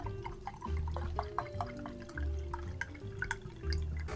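White wine poured from a bottle into a glass, a soft liquid trickle with low gurgling surges repeating every second or so, close and fairly quiet, no talking.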